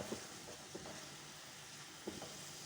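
Spice masala with tomato and salt roasting in a pan gives a soft, continuous sizzle with a few light clicks of stirring.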